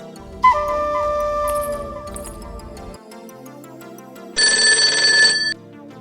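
A telephone rings in two bursts, a longer electronic trill followed after a pause by a brighter, louder ring, close and clear with no talking.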